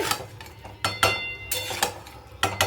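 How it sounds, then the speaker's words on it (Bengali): Dishes and utensils clink and clatter in several irregular bursts as a home kitchen is cleaned up after cooking, close and fairly loud, with no talking. "এবারে আমি রান্নাঘর পরিষ্কার করব"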